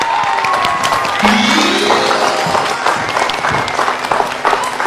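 Studio audience claps and cheers on a health television programme, with bright rising musical stingers over the steady applause.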